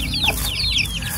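A hen of a giant breed clucks in a farmyard while her eight chicks peep in rapid, high overlapping chirps close by.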